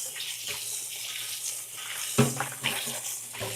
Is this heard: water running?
yes